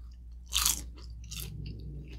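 Crunchy bites and chewing of crispy grilled Filipino pork intestines (isaw), close to the mic: one loud crisp bite followed by softer chewing crunches, with no talking.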